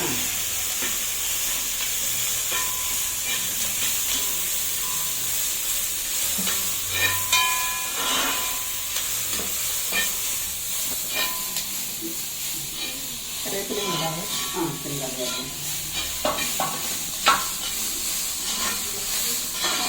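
Chopped onions, shallots, ginger, garlic and chili frying in oil in a pan for chicken thoran, a steady close sizzle and hiss with stirring scrapes throughout and faint voices underneath.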